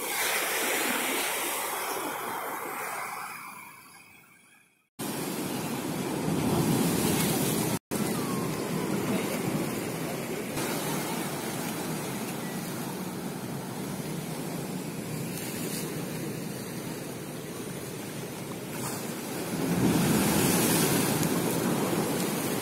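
Calm sea waves wash gently at Cermin beach at dusk, a steady soft surf hiss with no voices, briefly dropping out near the start before the even wash returns and swells slightly louder toward the end.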